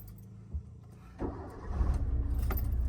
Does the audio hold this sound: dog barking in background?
no